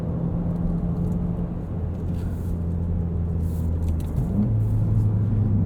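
A 2017 Volkswagen GTI Sport with a six-speed manual pulls toward 7,000 RPM. Its steady, close engine drone and road rumble hold, then the pitch climbs near the end, with no one talking.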